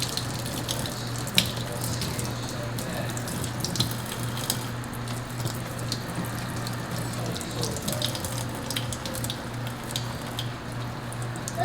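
A makeup brush is rinsed by swirling it in a small amount of water in the palm, giving a continuous close, wet sloshing and trickling with a steady low hum underneath.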